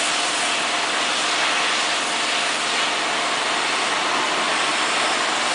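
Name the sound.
street cleaning vehicle washing the street at night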